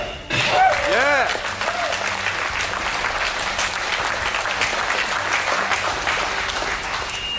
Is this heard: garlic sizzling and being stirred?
no